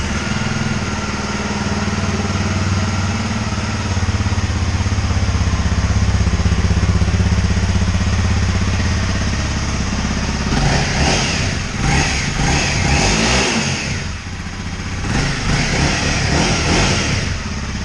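A brand-new 2019 Honda CRF250L single-cylinder motorcycle idles with a steady low thrum, then revs up in several rising bursts, loud and close with no talking.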